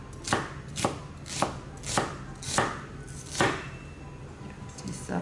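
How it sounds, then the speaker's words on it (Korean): A knife slices onion and brown mushrooms on a cutting board with about seven crisp, evenly spaced chops, close and clear, with a soft kitchen background between strikes. "양파는 채 썰어주시면 돼요."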